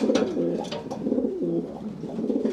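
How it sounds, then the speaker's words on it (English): An inbred racing pigeon hen coos close by, repeated throaty rolling coos in short bursts of a few phrases. "This is also an inbred Sagan hen"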